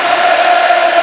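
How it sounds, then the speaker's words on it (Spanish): A stadium crowd at an Athletic Club football match roars in a steady, dense ovation for the Athletic players, a continuous wall of cheering with no individual voices standing out. "lógicamente la ovación de su público"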